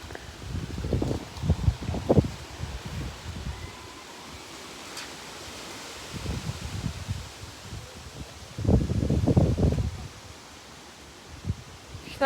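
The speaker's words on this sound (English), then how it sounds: "Wind's picking up." Wind picks up during a severe thunderstorm. It rushes and buffets the microphone in uneven gusts, with two stronger low blasts standing out over a steady background roar.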